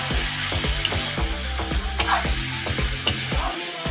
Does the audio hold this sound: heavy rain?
no